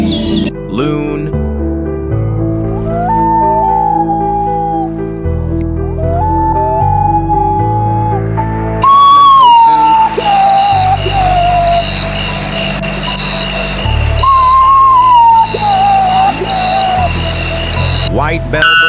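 A common loon gives long, wavering, tonal wails that rise and fall, repeated several times and heard fairly clearly over a steady background music bed.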